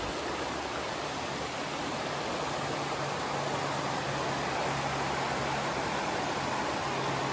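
Grassy Creek Falls in North Carolina pours in a constant, dense roar of rushing water, steady and full throughout with no voices or breaks.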